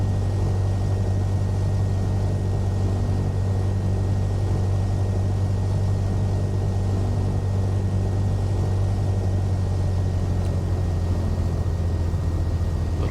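Steady, loud drone of a simulated Cessna 172SP single-engine propeller plane on final approach, a constant low hum with a firm tonal core that holds unchanged throughout, no voices over it.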